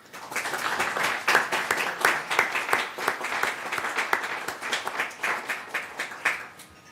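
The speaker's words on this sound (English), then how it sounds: "As you leave these board chairs, I would like to applaud you for your dedicated service." Applause at a board meeting for departing board members, a room of people clapping steadily for several seconds at moderate loudness, tapering slightly at the end.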